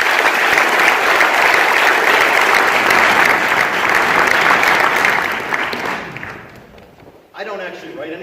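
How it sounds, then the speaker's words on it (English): Loud sustained applause from an audience at a high school National Honor Society induction ceremony, steady for about six seconds before fading out, followed by a voice speaking. "Please join me in thanking them with a round of applause."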